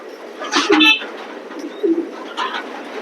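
Pigeons at a pigeon loft give a few short, throaty coos, fairly close, separated by brief pauses over a low background hiss.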